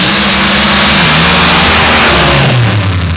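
A drag racing car's engine roars loud and close as the throttle opens at an MRA Outlaw Finals race after sunset. A sustained, heavy rev shifts pitch as it climbs and falls.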